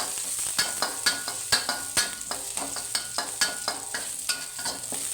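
Garlic stir-frying in a wok, loud sizzle under rhythmic scraping strokes of a spatula against the pan, repeated roughly every half second; no talking.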